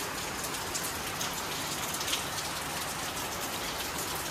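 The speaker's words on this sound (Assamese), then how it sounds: "এতিয়া অকল বৰষুণে দি আছে" Rain falls steadily on surfaces during a stormy morning, a dense even hiss with scattered nearby drips, continuous and moderately loud with no voices.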